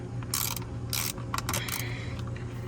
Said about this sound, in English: you're just going to take this Phillips head screwdriver